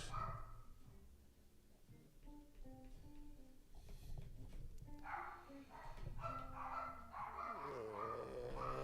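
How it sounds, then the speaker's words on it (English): Several dogs bark in the background indoors, fairly faint and intermittent beneath steady music-like tones, with occasional sharper yips toward the end. "And there goes the dogs."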